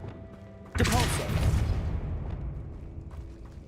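A Depulso push spell striking in Hogwarts Legacy on PS5, one sudden heavy thump with a burst of impact noise, then a rumbling decay lasting a couple of seconds, with a voice over the start.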